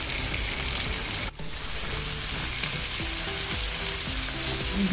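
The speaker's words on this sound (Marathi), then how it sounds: "आणि हे चांगलं असं फ्राय करून घ्यायचं." Marinated paneer tikka fries in oil in a hot pan, an intense steady sizzle with scraping stirs and a brief dip as it is moved, close and loud with no speech.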